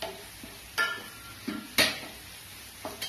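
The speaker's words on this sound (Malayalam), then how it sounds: "തക്കാളി ഒരുവിധം വഴന്നുകൊണ്ട് വരുന്നു" Tomatoes sauté in a pan with chili and turmeric powder, close and alone: a soft sizzle under a few sharp, separate scrapes and knocks of a spoon stirring against the pan.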